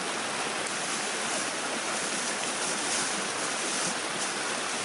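Water from a stream at a historic mine site near Waratah, Tasmania rushes steadily, a dense, even broadband wash heard close up with no pauses and no voices.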